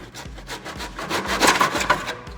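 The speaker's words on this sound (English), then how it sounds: "Now we will just cut the second part." A hand saw scrapes through wooden skirting board in quick, regular strokes, close up and moderately loud, with no talking.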